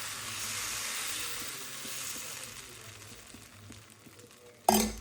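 Dosa batter sizzles on a hot griddle over a gas flame in a home kitchen, a steady close hiss that slowly eases, ending in a sharp clink.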